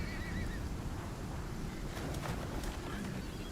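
A horse in the video game Icarus whinnies over steady wind and rumbling game ambience, a close, wavering neigh early on with some clip-clop movement.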